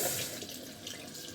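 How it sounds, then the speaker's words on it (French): Tap water runs steadily into a sink as hands are rinsed during a skincare routine, a close, continuous wash with no talking. "Je vais me rincer les mains."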